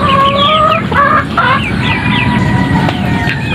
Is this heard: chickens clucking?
yes